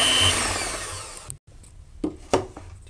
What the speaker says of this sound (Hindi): और अच्छी तरह से फेंटें, ऊपर झाग आ जाए।